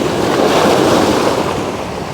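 Strong sea waves crashing and churning against a rocky shore, a loud, continuous roar of broadband surf with wind buffeting the microphone, no voices heard.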